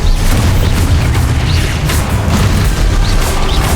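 Confringo fire-spell blasts in Hogwarts Legacy, a dense run of loud booming explosions and crackling bursts, close and continuous with no talk over them.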